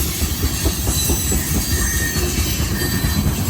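Loud rail cars of a freight train rumbling past close by, wheels clattering with rapid rhythmic clicks and a faint high squeal riding over the roar.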